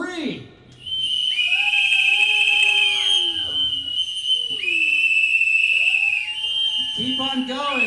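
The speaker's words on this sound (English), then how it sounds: "on the count of 3, we will all blow our whistles and summon the killer orcas" Several whistles blown together by a group, long shrill overlapping tones with some sliding pitches, loud and close, sounding in bursts over about seven seconds after a brief pause.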